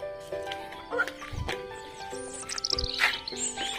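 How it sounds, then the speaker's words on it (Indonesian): A sooty-headed bulbul calling outdoors along a village road, bright chirps repeated several times at moderate distance, mixed with a person's voice and steady tonal background sounds. "Ini burung kutilang jenengnya."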